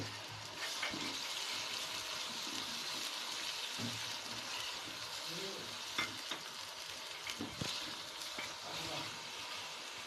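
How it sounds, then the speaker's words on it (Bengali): Onion frying with ginger garlic paste in a pan for khichuri, a quiet continuous sizzle with occasional spoon scrapes and stirring knocks, fairly faint and close. "এভাবে পেঁয়াজটাকে সুন্দরভাবে ভেজে নিতে হবে"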